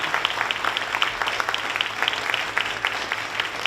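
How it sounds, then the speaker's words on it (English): A short burst of applause from a seminar audience for a panel on gun violence, steady clapping throughout with no voices. "I think they deserve a round of applause."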